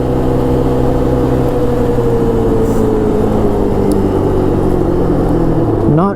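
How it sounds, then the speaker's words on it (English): A 1983 Yamaha Tri-Moto 200 three-wheeler engine winds out hard in fifth gear, a loud steady drone with pitch slowly sliding and a quick rise at the end, with no pause throughout. "There's fifth gear, getting wound out pretty good right there."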